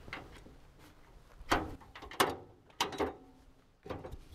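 MORryde Step Above RV step with strut assist dropping down and locking, heard as a few close, sharp metallic clunks and clicks spread over a few seconds at low volume.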